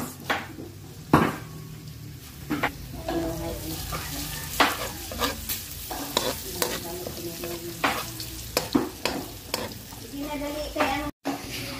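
Garlic and then onion sauté in a pan for a tuna carbonara, a close, steady sizzle punctuated by repeated clanks and scrapes of a utensil against the pan, with a voice speaking intermittently over it.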